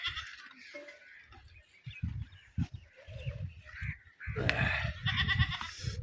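Goats bleating among farm livestock tethered in a rural Punjab village yard, several overlapping calls at close range with rustling and shuffling between them, no talk.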